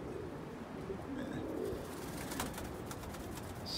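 Pigeons coo in a loft, a few soft throaty calls close by over a steady outdoor background hiss.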